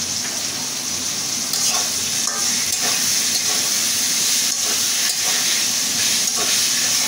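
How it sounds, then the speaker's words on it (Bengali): Potatoes and onion frying with ginger-garlic and cumin paste, a strong, close, continuous sizzle and steamy hiss, broken by occasional scrapes and bursts as the mixture is stirred. "আলুর সাথে পেঁয়াজটাও ভাজা ভাজা করে নেব। আদা রসুন বাটা দিয়ে দিলাম,"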